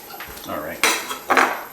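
A knife cutting a carrot on a board: two sharp close knocks of the blade against the board, after softer handling and clatter of kitchen utensils.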